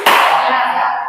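A single sharp hand clap rings out in a classroom clapping game, a loud bright smack that decays over about a second with no voices over it.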